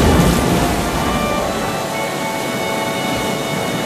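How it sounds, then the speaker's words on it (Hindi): Heavy rain pours outside a home, a dense, steady hiss that holds at the same loud level throughout with no voices. "देखो ना बाहर कितनी तेज बारिश हो रही है।"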